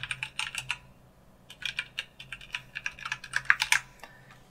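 Fingers type a password on a computer keyboard, quick bursts of light plastic key clicks in uneven clusters with short pauses, close and clear, no voices.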